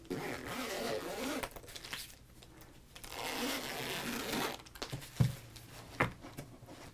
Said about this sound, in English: this one's got a zipper